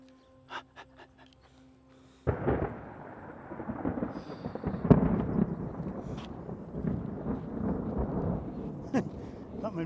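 Thunder from a nearby lightning strike bursts in suddenly after a quiet stretch, then rolls and rumbles loudly for several seconds with a sharper crack partway through.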